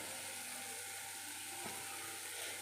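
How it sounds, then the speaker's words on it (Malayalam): Onions, curry leaves and green chillies sautéing in a pan for okra stew give a steady, close sizzling and frying hiss with no talk. "ഇനി ഇത് നന്നായിട്ടൊന്ന് നമുക്കൊന്ന് വഴറ്റാം"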